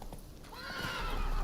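In The Witcher 3, the horse Roach gives a short, rising whinny that swells and holds loud and close, with faint hoof clatter just before it.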